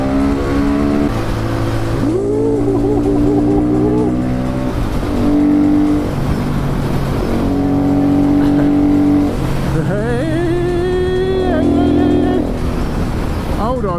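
KTM 500 EXC supermoto motorcycle ridden on a road, its engine droning and shifting pitch as it accelerates and eases off, loud and steady throughout with rising revs near the end.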